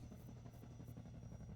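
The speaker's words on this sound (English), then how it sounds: "here's where we fully introduce the main boss of the Canals chapter, the Combine Attack Helicopter" A Combine Attack Helicopter in Half-Life 2 hovers nearby, its rotor throbbing in a steady pulsing drone with a thin high whine on top, constant and fairly faint, without speech.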